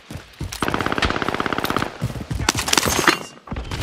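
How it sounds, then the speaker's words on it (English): Bursts of automatic gunfire in the video game Call of Duty, rapid close rattling volleys with brief pauses between them, loud and dominant. "I'm getting fucking shot at."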